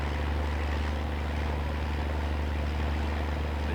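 A tractor engine idles and drones steadily in Farming Simulator 19, a constant low rumble with a throbbing pulse running evenly throughout, no voices over it.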